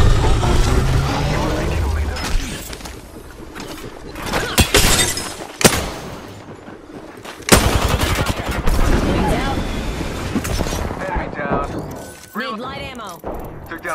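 Missile launches and explosive bursts in the Apex Legends video game, with sharp blasts and crackling impacts spread across a busy battle scene, loud and close, over a constant game soundtrack and clipped radio-style voices.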